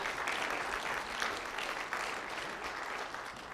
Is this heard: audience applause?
yes